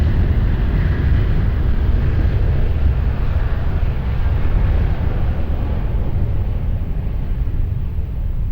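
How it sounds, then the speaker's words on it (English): An airliner takes off from runway 20 at Lisbon Airport, producing a loud, steady, low engine roar with broad rushing noise that holds throughout without a break. "Runway 20, clear for takeoff, bye bye, Avia 17 Hotel."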